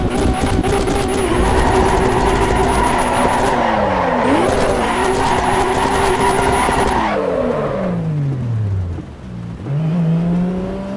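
A race car engine in the Assetto Corsa Evo video game roars loudly and continuously, with pitch sweeps rising and falling through gear changes and brief tire squeals. No speech is heard.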